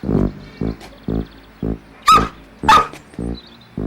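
A dog barks repeatedly in short, loud bursts spaced about half a second apart, with a couple of sharper, higher yelps mixed in.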